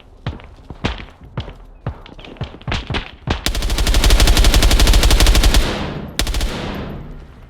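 Gunfire in the video game ARMA Reforger: a run of sharp single shots and thuds, then a loud sustained automatic burst lasting about two seconds, and a final shorter burst that trails off. The fire sounds close.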